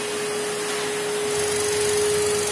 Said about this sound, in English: So switch on the vacuum.